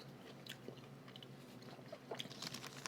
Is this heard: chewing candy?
yes